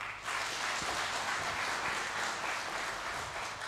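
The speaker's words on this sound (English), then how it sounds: "Kindly, let's give our chief guest a better clap." An audience at a health-policy event claps for the chief guest, a steady, full burst of applause from many hands that holds at an even level for a few seconds.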